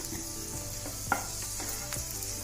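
Raisins frying in hot oil in a pan, a steady close sizzle with a few soft stirring scrapes and one small clink, no voices.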